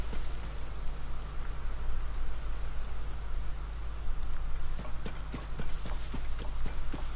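Steady rain hisses across the whole stretch in Tears of the Kingdom, with a broad continuous wash joined by a low hum, and a run of sharp clip-clop hoof-like taps near the end.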